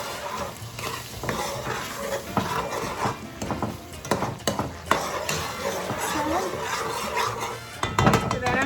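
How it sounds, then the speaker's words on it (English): A spoon stirs Accent seasoning through sizzling ingredients in a pot for Boricua-style rice with calamari, with steady scraping and occasional metal clinks over a continuous close frying hiss. "I'm gonna give it a stir"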